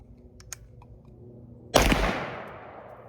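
A PSA AR-15 rifle firing 55 grain rounds at a Level 3A armor plate outdoors lets off one sharp, loud shot midway, with a decaying tail after some faint clicks.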